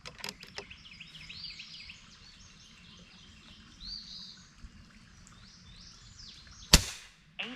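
A single sharp shot from an FX Impact M3 .35 caliber air rifle fired at a target, a loud crack standing alone late in the clip over steady outdoor birdsong.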